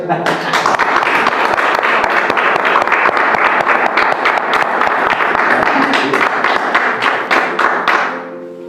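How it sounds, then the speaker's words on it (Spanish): A church congregation claps in steady, loud applause, many hands striking at once, close and sustained before tapering off at the end, with voices mixed in. "Da un aplauso a Dios."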